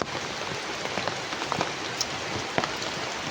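Heavy rain pours down steadily in a dense, loud wash with no pauses.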